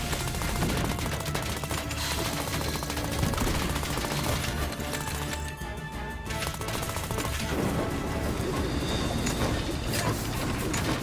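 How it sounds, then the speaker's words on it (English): Turrets firing in the video game Trifox: a dense, continuous rattle of rapid gunfire-like bursts mixed with game effects, loud and unbroken throughout. "we're gonna put some turrets here to distract this enemy in the center"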